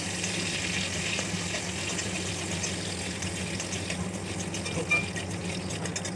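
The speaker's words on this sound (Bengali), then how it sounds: "এবার এর মধ্যে আমি কাজু কিশমিশটা দিয়ে হালকাভাবে নেড়ে চেড়ে ভেজে নিয়ে তুলে নেবো" A steady, fairly loud sizzle of cashews and raisins frying in hot oil for pulao, continuous with occasional small clinks.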